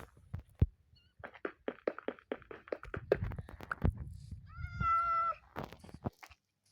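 A single drawn-out cat meow rises clearly midway through, surrounded by scattered clicks, taps and soft knocking sounds, with no talk.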